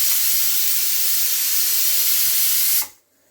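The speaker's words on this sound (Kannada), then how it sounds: "ದಾಲು ಕೂಗ್ತು, ಇನ್ನೊಂದು 2 ಕೂಗಲಿ ಚೆನ್ನಾಗಿ ಬೇಯಲಿ ಬೇಳೆ." A pressure cooker cooking dal lets out a loud, steady close steam whistle that cuts off sharply after nearly three seconds, leaving quiet.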